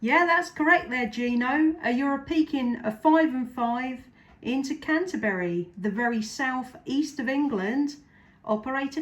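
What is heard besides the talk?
None of the usual background noises is heard.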